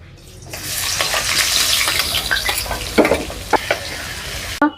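Onions frying in hot mustard oil in a pan, with a steady loud sizzle and stirring scrapes and clinks, several sharp spatula knocks toward the end; no talking.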